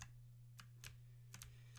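Computer keyboard keys are pressed in a few quiet, scattered clicks, some in quick pairs, over a low steady hum with no talking.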